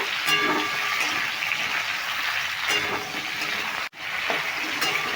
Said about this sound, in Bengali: এবার আমি কেটে রাখা আর কেটে ধুয়ে রাখা ঝিঙেগুলো দিয়ে দিচ্ছি এবার মেরে চেড়ে একটু ভেজে নেব